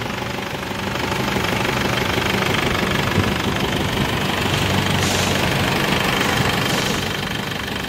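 A 2007 Isuzu D-Max pickup truck engine idles with a steady, rough, knocking rumble, close and constant throughout with no voices.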